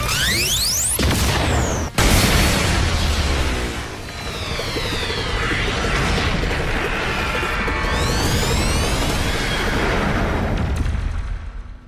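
Supreme Cannon attack from the game Digimon Story Time Stranger: loud, continuous blasting roar with a sharp crack near the start, sustained explosive rumble and swooping energy sweeps, no talk.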